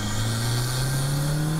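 Toyota MR2 engine revving upward with a smooth rising whine, loud and close, sounding almost like a jet turbine.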